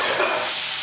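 A spoon stirs cabbage sabzi in a pan on medium heat, a brief scraping swirl over a soft sizzle, close and fairly loud.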